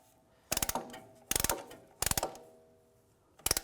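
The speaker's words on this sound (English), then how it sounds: "We're going to compress that piston. Just use a compressing tool." A brake caliper piston on a BMW X3 is pushed back with a compressing tool, giving four short bursts of rapid ratcheting clicks at steady intervals, close and clear with quiet gaps between and no talk.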